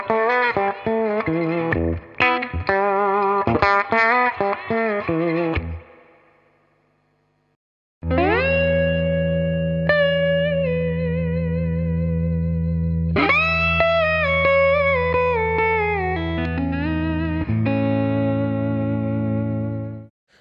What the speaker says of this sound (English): The SlideRIG Compact Deluxe Mark II adds the ability to adjust attack and release times,